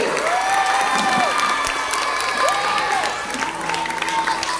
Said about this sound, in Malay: Tepukan untuk diri sendiri.